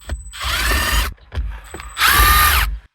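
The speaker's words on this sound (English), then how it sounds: "Then go ahead and remove the 4 Phillips screws" A power screwdriver whirring in two close, loud bursts with a ratcheting mechanical edge as Phillips screws come out of the shifter plate on a 1992–1995 Toyota 4Runner with manual transmission, short handling clatter between bursts.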